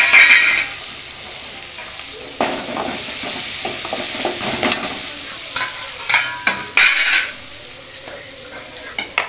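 Goat blood poriyal with ginger-garlic paste stir-fried in a pan, a continuous sizzle broken by repeated scraping and clinking strokes of a spatula, close and with no talk.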